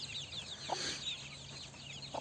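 Soft, low clucking from hens with a faint steady background hum; a couple of brief cluck bursts stand out against the quiet.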